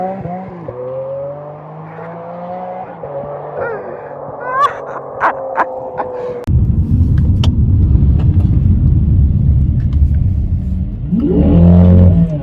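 Car launched under launch control, an engine note droning and rising, then a sudden surge into a loud, broad rushing roar of hard acceleration that builds and climbs again near the end, close and dominant.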